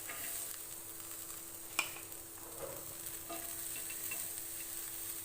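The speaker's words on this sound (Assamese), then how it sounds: "মই এতিয়া একেখন টাৱাতে পিঁয়াজখিনি অলপ সময়ৰ কাৰণে ভাজি ল'ম।" Onions frying in hot oil on a tawa for an Assamese dry fish chutney, giving a steady, moderate sizzling hiss with a few sharp spatula clicks and scrapes as they are stirred.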